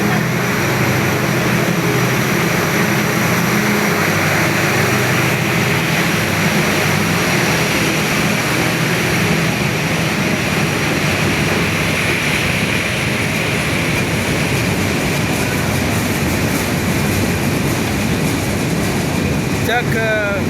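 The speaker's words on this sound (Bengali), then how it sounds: "রেলটা কিন্তু খুব দ্রুত এই ঢাকার উদ্দেশ্যে রওনা হচ্ছে।" A train pulls out of Bamonkanda junction bound for Dhaka, a loud, continuous low engine rumble with broad noise that holds steady throughout.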